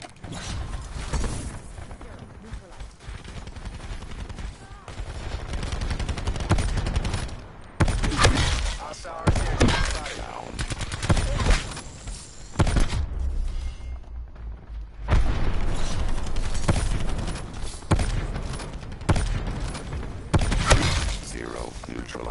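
Sustained automatic fire from the Locust weapon in Call of Duty Black Ops 4, dense loud bursts with brief gaps, mixed with game explosions and effects.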